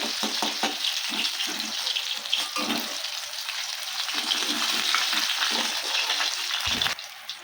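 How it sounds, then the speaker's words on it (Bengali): Bhola fish frying in hot oil for a fish and eggplant curry, a steady broadband sizzle with crackles running close and loud throughout, stirring and scraping mixed in, no talk. "মাছটাকে ভালো করে ভেজে নিয়েছি, এবার দেখুন ভাজা হয়ে গেছে"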